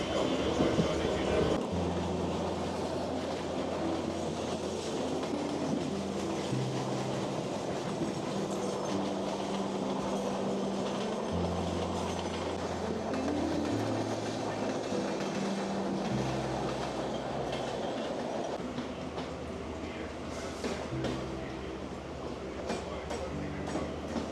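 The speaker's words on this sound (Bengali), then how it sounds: "আমি রয়েছি মুম্বাইয়ের লোকাল ট্রেনে" A Mumbai local commuter train rumbles along steadily, heard from inside a carriage, with rhythmic clacking of wheels over rail joints and occasional shifts in the engine's drone.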